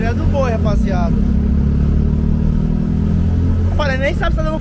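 A Ford Fiesta fitted with a Honda Twister motorcycle engine cruising on the highway, a loud, steady low engine drone and road rumble throughout, with a voice talking briefly at the start and again near the end.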